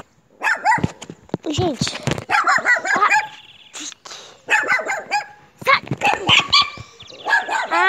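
Several dogs bark in short bursts at a rural home, some close and loud, mixed with frequent talking and what may be a rooster in the background.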